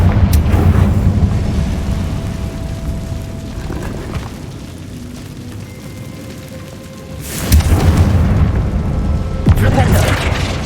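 Confringo blasting spell going off in Hogwarts Legacy, a loud booming burst erupting near the end after a quieter stretch of rumbling game ambience, with an earlier impact at the start.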